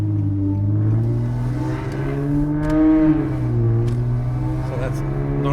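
A 2013 Infiniti G37 sedan with a VQ engine, test pipes and a custom 3-inch exhaust drives along, its droning exhaust note rising and falling steadily from inside the car, with some talk in the cabin.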